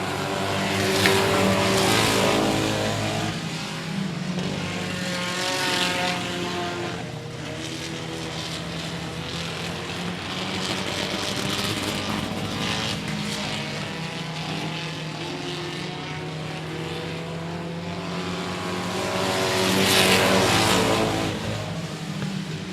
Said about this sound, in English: Preston Longacre in the 47 lap car right now, working there with the 4 of Tamara Keeble